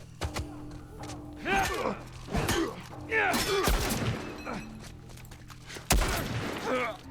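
Submachine gun fire from the video game The Last of Us Part 1, several bursts of rapid shots with thuds and impacts spread across the clip, with game speech mixed in.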